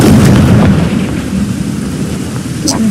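An explosion spell in Hogwarts Legacy gives a loud, deep rumbling blast that rolls on and slowly fades, ending with a brief higher burst.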